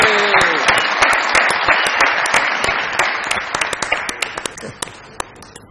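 A studio audience at a comedy show bursts into loud, sustained applause for a prize winner receiving a motorcycle, the clapping thinning out toward the end.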